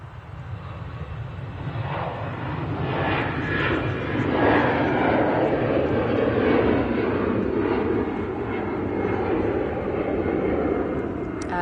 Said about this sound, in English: So, EasyJet A320 going to Paris Charles de Gaulle.